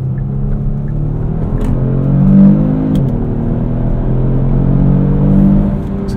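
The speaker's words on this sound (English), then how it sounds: "Let's do a little second gear pull onto the highway here." A 2018 Kia Stinger GT RWD pulls hard in second gear onto a highway at night, heard from inside the cabin as a steady, rising engine drone and rumble with harmonic whine, loud and continuous for about six seconds with no talk.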